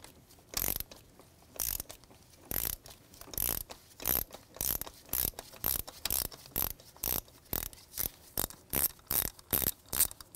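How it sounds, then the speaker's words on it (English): Steady, evenly spaced ratchet clicks ring out up close as a socket wrench with a 5/8 spark plug socket backs a spark plug out of a 2001-2007 Volvo V70 engine, about twenty strokes in a regular rhythm with no voices. "Bring it down in there, counterclockwise, and back it off."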